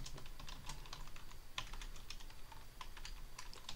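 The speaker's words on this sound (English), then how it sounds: "Cannot type right now." Steady typing on a computer keyboard while coding a basic C++ calculator, with quick clustered key clicks running continuously, close and fairly quiet, no voice.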